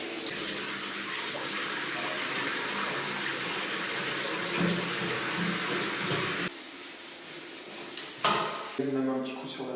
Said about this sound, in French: Essayez le siphon, si on peut remplir la baignoire.